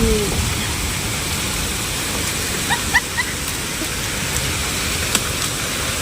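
A hailstorm with hail and rain falls in a steady, dense hiss of pattering close by, with occasional sharper taps of hailstones landing, and brief voices in the background.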